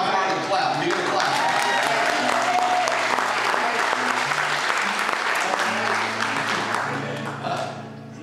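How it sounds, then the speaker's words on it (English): A church congregation gives sustained, loud applause that holds steady for several seconds before tapering off, with musical tones and some voices underneath. "You can clap."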